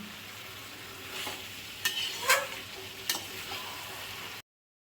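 Onion and garlic paste sautéing in a pot for mutton curry, a steady soft sizzle with scraping stirs and a few spoon knocks, close and alone.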